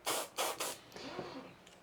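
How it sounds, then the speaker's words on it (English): An airbrush sprays weathering paint onto an FMS Zero RC warbird model in several short, close hissing bursts, then a softer, longer spray trails off. "Spray a bit over there."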